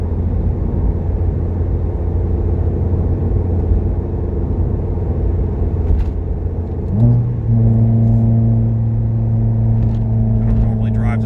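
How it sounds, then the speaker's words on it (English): A car fitted with street coilovers climbs lumpy, broken back-hill pavement, its engine droning steadily and rising into a louder revving pull partway through, while someone talks over the road noise. "we're going up some back hill roads here, and where it's a little lumpier and broken pavement"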